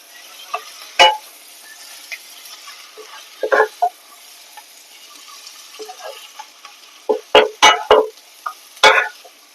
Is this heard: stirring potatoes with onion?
yes